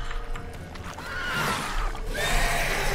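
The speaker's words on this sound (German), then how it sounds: "Pferdepanik, als ob." A panicking horse in The Witcher 3 lets out a loud, drawn-out whinny and neigh over clip-clopping hooves, the cry rising and falling in bursts across the whole stretch with no talking.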